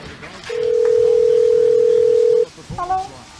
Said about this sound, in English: I'm about to call her up